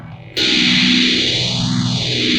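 An electric guitar runs through a Boss Metal Zone distortion pedal looped into a Boss GX-100's send/return, cutting in abruptly as a loud, thick, saturated tone that sustains steadily with a sweeping, shifting overtone.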